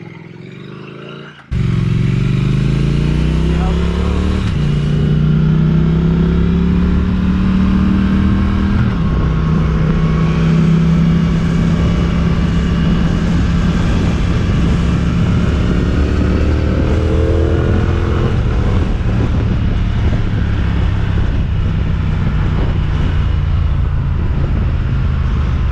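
A motorcycle engine under way on the road kicks in loudly and stays close, its pitch climbing through the gears with a few drops at each shift, wrapped in heavy wind rush and no speech.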